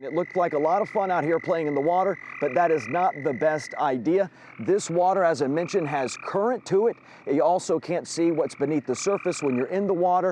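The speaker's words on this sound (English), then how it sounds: "you may hear the frogs in the background" Frogs croak loudly and continuously in a flooded area, a dense, rhythmic chorus of repeated calls lasting throughout, with a person talking steadily over it.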